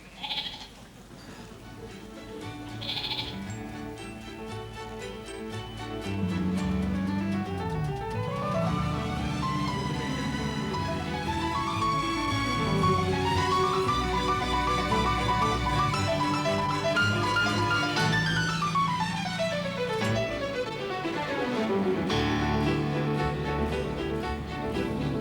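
Pet lambs bleat over and over in a pen, a chorus of overlapping wavering cries that stays loud and close without a break.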